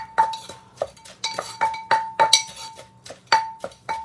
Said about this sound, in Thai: ก็จะมาโครกเห็ดกับ